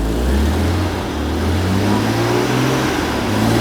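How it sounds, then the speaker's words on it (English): An older car's engine idles smoothly and steadily at close range, a low continuous rumble with a faint exhaust leak, with no voices over it. "But listen to this engine. Man, it runs pretty sweet."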